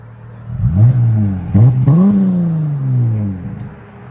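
2019 Dodge Charger with a 3.6L V6 and Dynomax Race Bullets exhaust revving close by, two quick throttle blips followed by a longer rise and falling drone as the engine settles.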